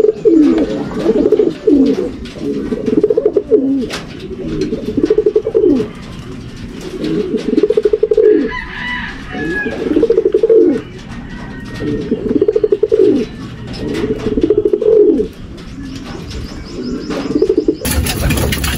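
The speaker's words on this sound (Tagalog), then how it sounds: "So ito nga mga kalapatids yung pauwi natin from Lipa, Batangas." Racing pigeons just back from training in Lipa, Batangas coo steadily and loudly up close in their loft, a continuous rolling chorus with occasional chirps and a brief flutter of wings.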